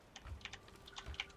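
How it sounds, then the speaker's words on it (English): Faint, quick clicks of a computer keyboard being typed on during a game session, an uneven patter of key presses heard alone and close. "you can hear my keyboard clicking away"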